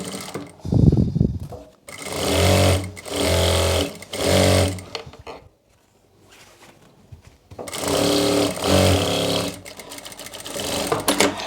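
A sewing machine stitches the shoulder seam of a kurti sleeve in loud, close bursts of rapid whirring, with short pauses and a longer silent gap between runs.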